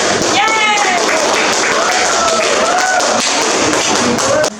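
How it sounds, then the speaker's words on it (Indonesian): Classroom applause after a group presentation, with a crowd of students clapping steadily and densely throughout, close and loud, while a voice talks over the clapping. "Oke, kita beri aplaus dulu."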